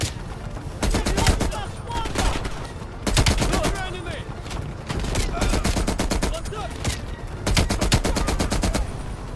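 Rapid automatic gunfire from a first-person shooter, Call of Duty Black Ops Cold War, comes in four loud sustained bursts separated by short pauses, with faint voices and game effects underneath.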